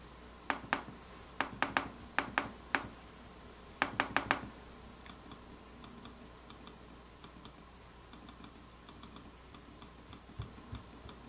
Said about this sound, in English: you still get a clicking sound, but it's a little different than the traditional trackpad